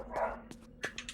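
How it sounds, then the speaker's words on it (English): Dogs in the video game Eternal Darkness: Sanity's Requiem bark several times, short sharp yaps and woofs spaced irregularly over a low steady hum. "I'm a little bit mad that there's so many dogs on my run."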